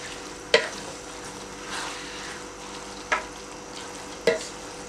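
Rice with jaggery being stirred in a pot, giving three sharp spoon scrapes or clinks against the pot over a low steady simmer, with no talking.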